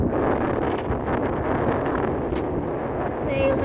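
A sailboat runs under sail in strong wind near the Vincent Thomas Bridge, with steady loud wind roar and rushing water filling the whole moment.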